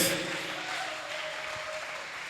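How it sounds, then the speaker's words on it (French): Church congregation clapping and cheering in praise during a worship service, a steady broad wash of applause sustained loudly from start to finish. "Est-ce qu'on peut acclamer très fort le Seigneur?"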